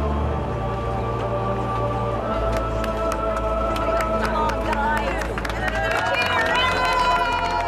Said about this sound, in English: A sudden round of applause breaks the tension.